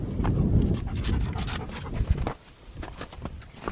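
A German Shepherd pants rapidly and its feet patter over the ground nearby at a park, with rustling throughout and no talking.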